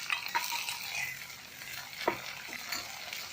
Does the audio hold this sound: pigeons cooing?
no